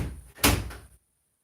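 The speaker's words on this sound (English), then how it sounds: "Can you close my door, please, honey?" An indoor door swings shut with one solid, close thud after a brief rustle of movement, and the room falls silent afterward.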